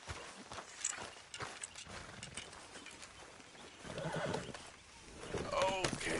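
A horse in the video game Red Dead Redemption 2 whinnies clearly as hooves clop and shuffle, the neighs swelling loudest near the end over game ambience.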